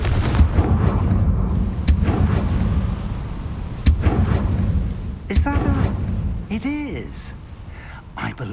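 Confringo fire spell blasts in the Hogwarts Legacy video game: several sharp, booming bursts crack out over a steady rumble of game sound, with character voices speaking toward the end.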